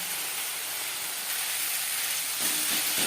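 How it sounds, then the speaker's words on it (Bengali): Onion and tomato frying with spices in a pan for a tilapia fish curry, a soft continuous sizzling hiss throughout, growing slightly louder toward the end, with no voices. "মশলার সাথে পেঁয়াজ টমেটো ভাজা হয়ে এসছে"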